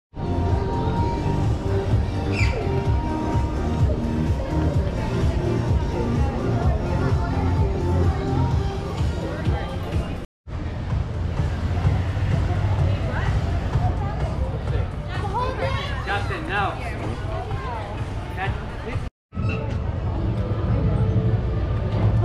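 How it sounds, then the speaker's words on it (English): A dense crowd streams into the SeaWorld Orlando theme park, filling the scene with continuous loud chatter and murmuring voices, with footsteps and ambient bustle. Two brief cuts interrupt the sound. "Here's a crowd getting into the theme park."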